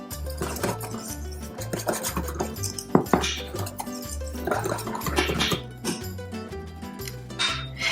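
A whisk scrapes and clinks rhythmically against a bowl while chickpea flour and water are combined into farinata batter, with quick repeated metallic taps close by over a steady low backing beat.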